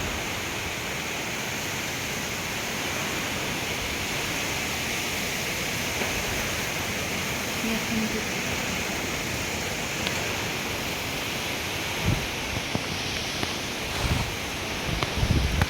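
Strong wind from Cyclone Dana roars as a steady, dense broadband rush with no letup, buffeting the microphone and punctuated by a few gusty thumps and rattles near the end.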